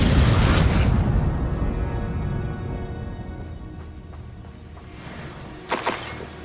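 Spell explosions from a Harry Potter-style video game give a loud, rumbling blast that slowly fades and is followed by a second, smaller burst near the end.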